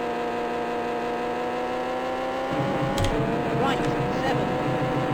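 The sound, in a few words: car engine climbing in third gear in a video game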